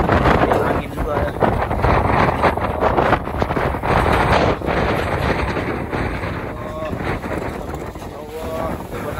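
Stormy wind and rain batter a harbour during bad weather, a steady broadband roar of gusts buffeting the microphone with waves and boat sounds mixed in, while voices call out faintly underneath.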